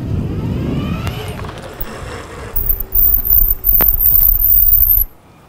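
An electric bike with a Luna Cycles hub motor climbs a hill under throttle, a thin high whine riding over gusty wind rumble and light rattles, cutting off near the end.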